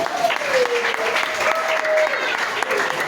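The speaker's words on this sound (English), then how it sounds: "can we please clap for her?" A room full of people at a school club inauguration claps steadily throughout, with a voice faintly carrying over the applause.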